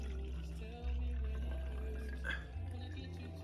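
A big shot of gin poured into a glass, a faint liquid trickle and drip over a steady low hum in the room, with no talking.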